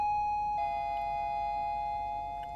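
A doorbell chimes inside a cabin in a Roblox horror game, sounding as a clear sustained electronic tone that shifts pitch partway through and then slowly fades, heard alone without talk.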